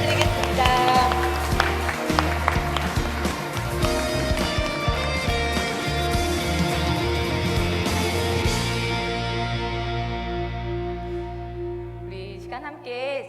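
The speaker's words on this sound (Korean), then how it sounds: "하나님 앞에 영광의 박수 올려드리겠습니다." Congregation applause at a children's Sunday worship service in a church, a dense burst of clapping under music that fades out near the end, followed by a brief voice.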